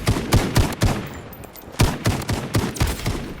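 Rapid bursts of SKS rifle fire in the shooter game Blood Strike, close and loud, coming in quick clusters of shots with short pauses between volleys.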